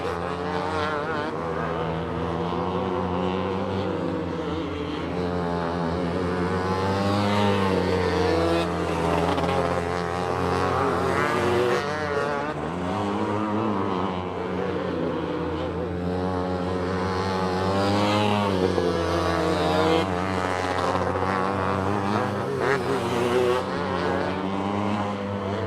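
Racing karts with flat-kart engines lap the Perris Auto Speedway oval in a So Cal Oval Karters event, a continuous buzzing engine drone that rises and falls as karts pass, under a race commentator's voice.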